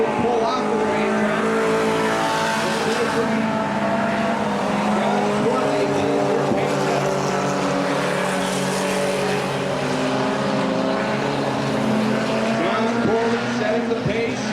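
Race cars at Cottage Grove Speedway lap the track in a steady, continuous engine drone, several motors overlapping and holding their pitch through the whole stretch.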